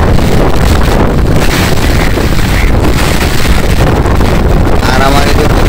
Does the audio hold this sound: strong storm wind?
yes